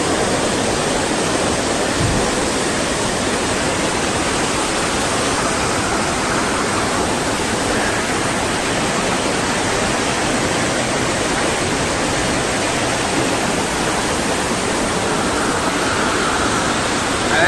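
The river in the Caranca gorges of the Pyrenees rushes in a loud, unbroken roar of churning water, close by and steady throughout.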